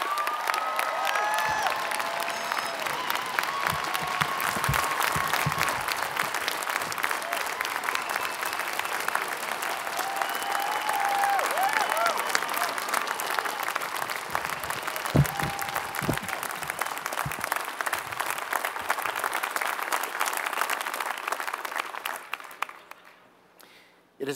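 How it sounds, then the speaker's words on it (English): Large commencement audience at a Stanford graduation ceremony applauding the university president, dense sustained clapping with some cheering that holds steady for about twenty seconds before tapering off. "join me in a round of applause for your 16-year tenure as president of Stanford"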